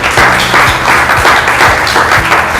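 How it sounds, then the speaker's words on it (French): Loud, close crowd applause at a talk on cryptocurrency and African youth, a dense continuous clatter of hands with faint low thumps pulsing underneath. "veuillez applaudir pour nous, s'il vous plaît."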